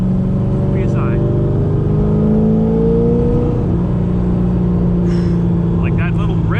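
C5 Z06 Corvette engine revving at about 25% throttle on a back road, a sustained in-cabin engine drone that rises in pitch in a short rip and then settles, loud and steady.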